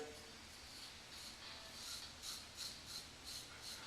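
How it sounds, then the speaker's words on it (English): A Merkur Progress adjustable safety razor shears off facial whiskers in quiet, close scraping strokes that repeat in a steady rhythm, faint and with no talk. "It's you can hear it, and it's shearing off the whiskers very nicely."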